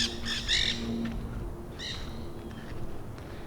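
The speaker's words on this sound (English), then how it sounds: "There are those parrots up there." Harsh parrot squawks from up above a garden ring out in short bursts over a steady low rumble, a few calls clustered early and another pair a moment later.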